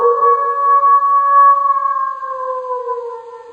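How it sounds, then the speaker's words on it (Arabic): A wolf howl from a children's zoo animal-sounds set: a long, steady, sustained tonal wail with layered harmonics, close and fairly loud, slowly falling and fading toward the end with no talk over it. "صوت الذئب."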